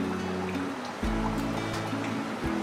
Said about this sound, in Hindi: अब इन्हें फ्राई कर लेते हैं।